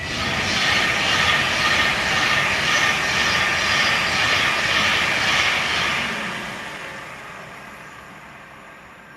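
A Pendolino train in a special environmental livery passes as a loud, steady rushing roar that fades away over the last few seconds.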